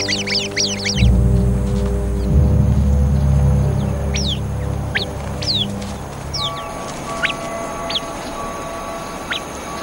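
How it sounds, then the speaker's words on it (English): Sharp, repeated alarm calls from a sentry bird in a flock reacting to a viper, high piercing notes rising over a loud low rumble that fades midway, the cries scattered and fairly near. "The sentry bird immediately sounds the alarm."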